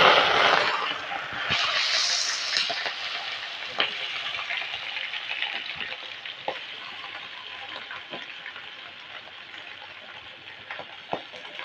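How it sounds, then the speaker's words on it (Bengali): Prawns fry lightly in hot oil in a pan, with loud, bright sizzling at the start that settles into a steady crackle, broken by occasional sharp pops and stirring clinks. "আর এবারে চিংড়ি মাছটা দিয়ে নিচ্ছি, একটু ভাজা করে নেবো হালকা।"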